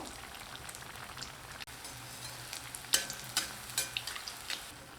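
Sweet raw rice appam fries in hot oil, a dense crackling sizzle like rain on a surface that turns into louder popping bursts toward the end, close and without talk.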